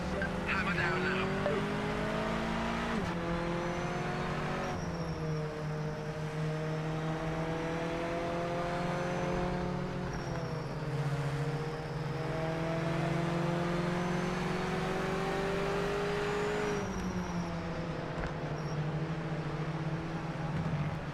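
Mazda MX-5 race car in iRacing held at full throttle on an opening lap, a steady droning engine note that climbs and dips through gear changes, loud and continuous with a commentator speaking over it.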